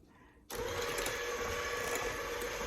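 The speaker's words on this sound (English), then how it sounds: "But I bought this cute little KitchenAid handy whisk, so I had to get it out." A KitchenAid handheld whisk starts abruptly and runs at a steady, fairly quiet whir as it whisks a chocolate fudge cheesecake mixture, close by with no talking.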